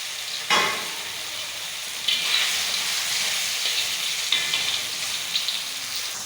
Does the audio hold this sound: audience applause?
no